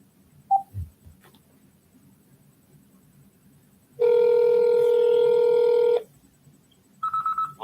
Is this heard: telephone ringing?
yes